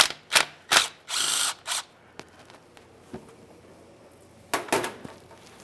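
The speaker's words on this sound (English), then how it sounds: "As you remove your final mounting bolts, make sure you're holding onto that pan" Transmission pan mounting bolts come off a 1994-2001 Dodge Ram 1500 with a few short ratcheting bursts and one longer run, then a quiet stretch with light metallic knocks before more brief zips, close by.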